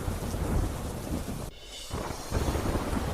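A thunderstorm with heavy rain in Rajasthan roars as a dense, loud wash of downpour with thunder rumbling through it, briefly easing in the middle before surging back.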